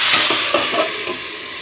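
Tomatoes tipped into onion and garlic frying in mustard oil for dhaba-style chole, giving a steady close sizzle with a few stirring scrapes of a spoon in the pan.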